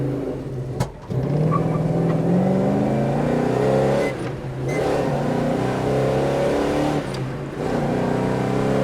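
A 1971 Chevrolet Chevelle SS engine with cowl induction revs hard and climbs through several gears, with brief drops in pitch at each shift, loud and close.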